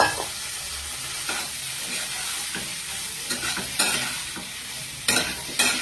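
Masala being stir-fried with figs in a pan for an egg and fig curry, a steady sizzle broken by scraping spatula strokes and a few louder clatters, close and with no talk.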